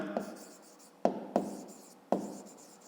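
A pen writes on paper during a fifth-grade maths exercise, with a few sharp tap-like strokes and a soft scratching continuing between them, close and fairly quiet.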